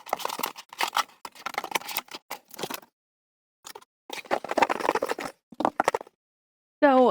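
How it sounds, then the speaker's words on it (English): Cheap dollar store scissors cutting, a quick series of crisp snipping and crunching strokes in two bursts separated by a short pause, close up. "These dollar store scissors aren't working."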